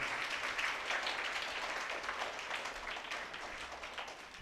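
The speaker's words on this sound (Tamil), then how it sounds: "திருமிகு யேசுதாஸ் மேனேஜர் அவர்களுக்கும் நம்முடைய நன்றியும் வாழ்த்துக்களையும் கைத்தட்டி நாம் தெரிவிப்போம்." A church congregation breaks into sustained applause, many hands clapping in a dense, even patter that stays steady and moderately loud before easing slightly at the end.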